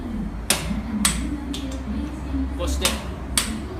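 A torque wrench clicks sharply about five times as a mechanic checks each wheel nut's tightness after a tire change, with short metallic snaps spaced at irregular intervals over a low garage hum and someone speaking.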